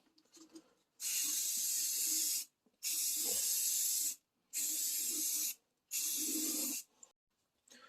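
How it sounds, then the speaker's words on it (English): Four long, even bursts of hissing spray from an aerosol can of primer coating a plastic headlight, each lasting about a second and a half with short pauses between, close and loud in a quiet room. "So here we go for our last coat of primer."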